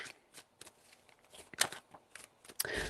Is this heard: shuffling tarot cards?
yes